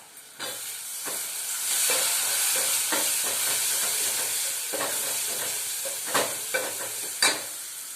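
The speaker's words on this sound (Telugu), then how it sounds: "వంకాయలు వేసుకుంటున్నాం" Eggplant pieces, salted and cut, fry in a pan with a steady close sizzle, broken by repeated scraping and stirring clatters and a few sharp utensil clicks near the end.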